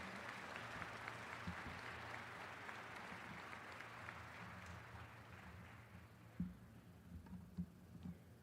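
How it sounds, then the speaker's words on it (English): An audience applauding at a spring university commencement ceremony, heard as a faint, distant patter of clapping across a large hall that gradually thins out toward the end, with a few isolated sharper claps and low rumble underneath. "Let's give one more round of applause for Dr. Ahome."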